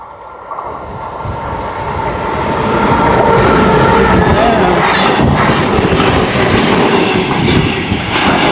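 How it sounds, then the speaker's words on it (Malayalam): A train in Germany passes very close, a loud continuous roar with rhythmic clattering of wheels on the tracks that builds and holds. "ഇനി ട്രെയിൻ പോകണം കേട്ടോ"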